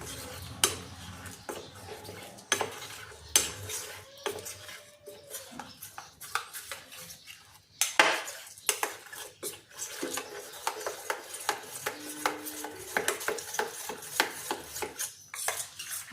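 Spoon stirring milk powder into milk in a clay pot, a series of irregular scraping clinks and rubs against the pot, fairly close, with brief quiet gaps between strokes.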